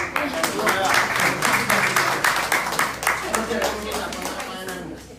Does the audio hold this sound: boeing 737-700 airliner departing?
no